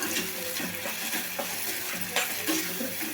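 Onion chutney frying in oil while being stirred in a pan, with a steady sizzle and intermittent scraping and clinks of the spoon against the pan, close and continuous.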